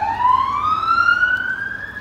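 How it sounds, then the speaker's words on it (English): A police siren wails in a rising tone, loud and close, as the vehicle passes. "police car goes past."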